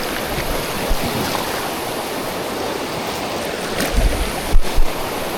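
Clear river water flows past a wild campsite in a steady, loud rushing wash, with a few louder splashes and bursts near the end.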